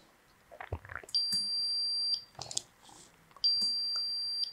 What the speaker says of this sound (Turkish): Boşluk tuşuna bastığımda buzzer'ımdan ses çıkışı istiyorum